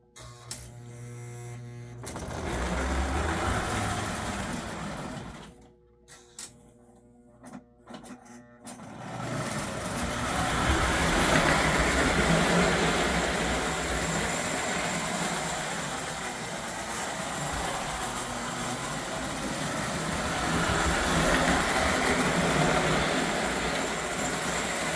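A Lionel 390E standard gauge model train locomotive runs on a home layout track with a steady electric hum and rolling rumble, a brief quiet break early on, then continuous running that swells and eases.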